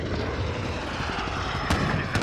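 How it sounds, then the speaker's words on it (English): A recon aircraft flies over a video game battlefield, a steady loud engine drone and roar with a sharp burst near the end. "Request recon flyover."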